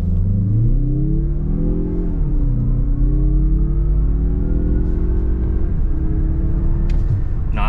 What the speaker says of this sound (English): 0 to 60 off of idle in the CX-50